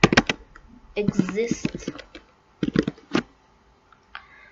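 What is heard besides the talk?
computer keyboard typing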